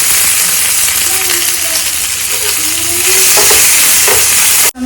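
Onions crackle loudly in hot oil in a pan as the base for sambar, a dense continuous sizzle with faint clinks of stirring near the end.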